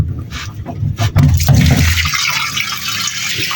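Dirty laundry water being poured out of a tub in a Pakistani village home, a loud broadband splashing rush that swells over the first two seconds and then settles into a steadier, slightly fainter gush.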